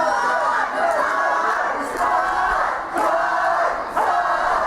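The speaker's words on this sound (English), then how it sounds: "you can hear the crowd in here tonight are electric" A packed wrestling arena crowd roars and cheers without a break, loud and close, rising into several swelling surges of shouting.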